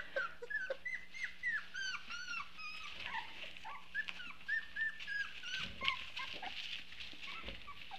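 A young service-dog puppy whimpers and yips in a series of short, high, wavering whines, close and fairly quiet, with a few soft thumps and no talking.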